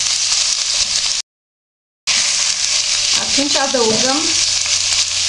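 Chicken breast sears in a frying pan for Viennese chicken, a steady loud sizzle broken by a brief silence, with a short spoken phrase over the frying near the end.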